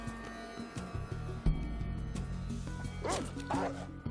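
Dogmeat, the canine companion in Fallout, barks amid game effects, with a sharp thud and crash partway through and someone talking over the scene.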